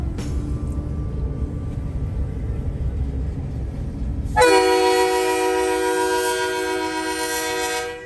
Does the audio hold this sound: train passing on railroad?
yes